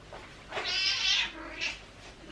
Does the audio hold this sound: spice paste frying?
no